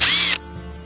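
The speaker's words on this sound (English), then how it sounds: "the tools you'll need is a power drill" A power drill whirs loudly and close for about a third of a second, then winds down and stops, leaving a faint mechanical hum.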